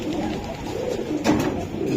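Racing pigeons coo in soft, repeated throaty rolls, close by and steady, with a slightly louder burst near the end and no talking.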